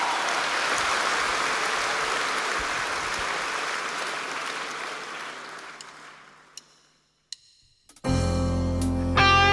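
A concert audience in Chișinău applauds the performers and the orchestra with a dense, loud ovation that slowly thins and fades to near silence, then music starts up.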